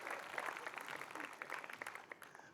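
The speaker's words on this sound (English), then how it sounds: "You can clap for that one." An audience claps for a joke at a Bob Hope USO show, a faint, distant, crowded patter of many hands that thins out toward the end.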